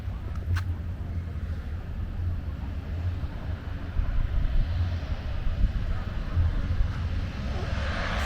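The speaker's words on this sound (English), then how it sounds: "Oh, here's my plane." A small propeller airplane flies over a remote beach in Guatemala, its engine a steady droning rumble that swells louder midway, with faint talk and outdoor background noise.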